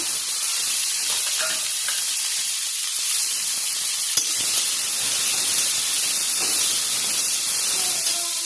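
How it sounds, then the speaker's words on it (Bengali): Onions and tomatoes sizzle in hot oil with whole garam masala spices, a steady close frying hiss that runs unbroken throughout with no voices. "এগুলি এখন লাল লাল করে ভেজে নিই"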